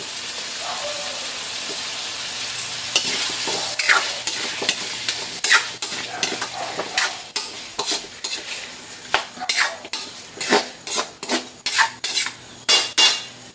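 Squash stirred in a pan with tomatoes while it sizzles, a spoon scraping and clinking against the pan in repeated quick strokes over a soft steady frying hiss, growing more frequent toward the end.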